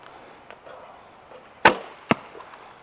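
A traditional archery bow, a Creek Walker Trading Gator 2 ASL, looses an arrow that thuds into a target: two sharp, close impacts about half a second apart, loud against an otherwise quiet background.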